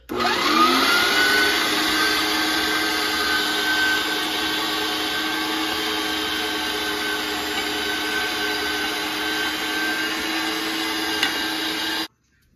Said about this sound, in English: Save the onions and garlic for last because it'll help clean that last bit of meat out of the grinder